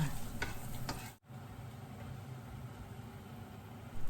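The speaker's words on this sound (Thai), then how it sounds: "ใส่กระเทียมลงไปค่ะเจียวให้เหลืองค่ะ" Soft, steady sizzling of garlic frying in hot oil, with a couple of light clinks early on and a brief pause before the sizzle continues.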